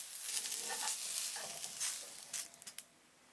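Mushrooms with a pinch of salt sizzle softly in a pan while being stirred, a quiet crackling fry broken by a few scraping stir sounds near the end.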